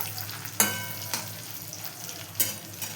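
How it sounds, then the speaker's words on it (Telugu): About twenty dried red chillies fry in a pan with mustard seeds, making a soft, constant sizzle. Three sharp clanks of a spoon against the pan stand out, and no one speaks. "తర్వాత ఒక ఇరవై ఎండుమిరపకాయల వరకు తీసుకున్నానండి నేను ఇవన్నీ వేయించుకోవాలి ఇవన్నీ దోరగా వేయించుకోవాలి"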